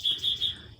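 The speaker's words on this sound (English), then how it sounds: "Sorry about that really loud bird." A wild bird lets out three quick, bright chirps in an even rhythm, loud and close, then the sound fades into quiet background noise.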